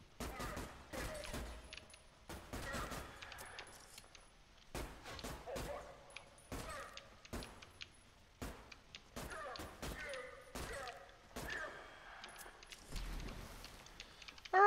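Rapid bursts of gunfire in the first-person shooter ADACA come in repeated clusters of sharp cracks with short gaps between volleys, loud and close throughout.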